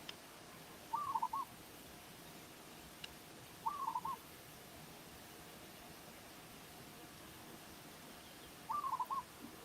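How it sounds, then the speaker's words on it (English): Doves coo outdoors in three separate soft, short phrases spaced several seconds apart over faint steady background hiss. "And I love that the doves are cooing."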